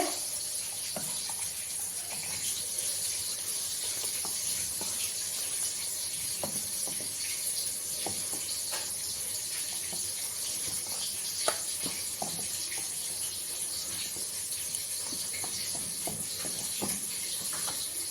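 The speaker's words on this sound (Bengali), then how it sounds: "মাছ তো ভাজা হচ্ছে আমার" Steady, dense sizzle of fish frying in hot oil runs throughout, with occasional sharp pops and crackles.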